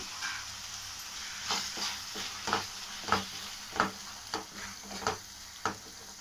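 Chopped ripe tomatoes and a sprig of curry leaves sauté in a pan, giving a faint continuous sizzle with regular scraping stirs of a spatula, and no one talking.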